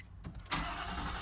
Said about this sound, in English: We're gonna fire this truck up, put on the brake, and let's give her a start.